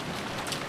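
A brief burst of steady rainfall from the Umineko visual novel, a dense, even hiss heard up close with no voices over it.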